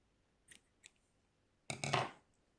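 Scissors snipping crochet yarn for a daisy bandana, two faint ticks followed by a short, crisp cut, very close and quiet, with no talking.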